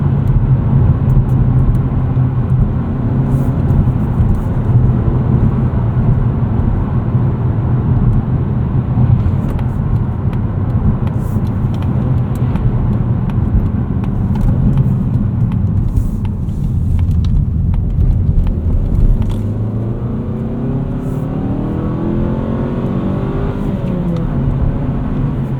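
A 2024 Mazda3 2.5 S Premium with a manual gearbox and front-wheel drive pulls hard to redline in second gear. The engine roars loud and steady from inside the cabin and rises in pitch, then eases off toward the end.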